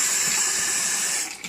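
Cold water pours steadily from a tap into a pot of rinsed rice, a close, even splashing rush that thins out at the end.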